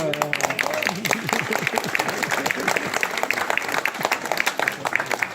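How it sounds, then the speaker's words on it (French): A gathering at an outdoor association event along a canal in Lorgues applauds, steady moderate clapping with voices audible underneath. "On peut l'applaudir"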